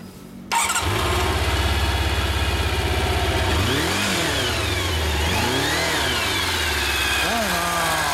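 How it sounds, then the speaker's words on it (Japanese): A new 2008 Kawasaki Zephyr χ Final Edition motorcycle engine starts and idles loudly up close, with steady mid-range rumble and several sweeping revs rising and falling throughout. "すみません、新車の音聞かせてもらえますか？"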